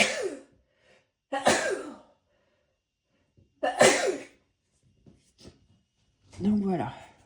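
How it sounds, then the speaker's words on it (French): A person sneezes and snorts in several close, abrupt bursts spaced by quiet pauses, with a voiced, breathy burst at the end. "Je vais éternuer."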